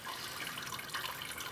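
Water poured onto a small patch of artificial turf, a faint continuous splashing hiss with no pauses over a brief stretch.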